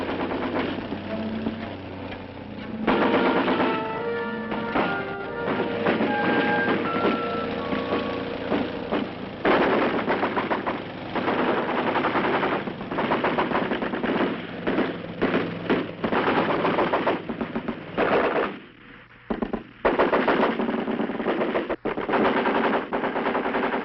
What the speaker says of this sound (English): artillery units fire concentrations on the entire enemy position.